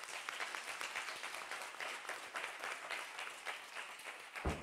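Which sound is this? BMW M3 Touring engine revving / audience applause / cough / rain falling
audience applause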